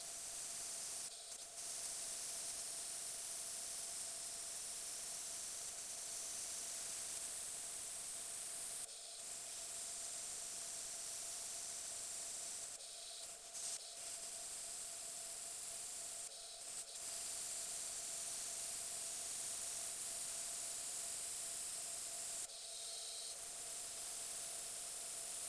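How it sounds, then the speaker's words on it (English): An airbrush sprays paint onto a mirror with a steady, close airy hiss that runs almost continuously, broken by a few brief pauses and backed by a faint constant hum. "I'm just about to airbrush it"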